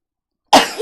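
A single sudden sneeze bursts out of silence, close and loud, sharp at the onset and then tailing off into a brief breathy trail.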